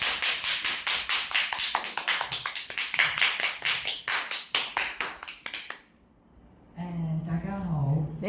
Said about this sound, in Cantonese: 係就熱烈嘅掌聲歡迎我哋嘅主任 Amy。